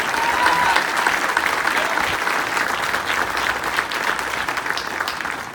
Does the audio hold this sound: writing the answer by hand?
no